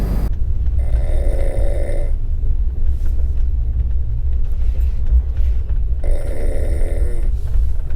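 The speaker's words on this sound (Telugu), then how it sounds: "ఒకటే గురక హెవీ సౌండ్ అసలు" A man sleeps aboard the Tirumala Express train from Vijayawada to Visakhapatnam, snoring heavily in two loud, rasping drawn-out breaths, close by, over the constant low rumble of the moving train.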